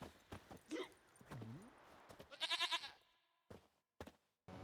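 A goat in The Witcher 3 lets out a wavering bleat, joined by hollow knocks and clopping taps, with brief voice sounds scattered between.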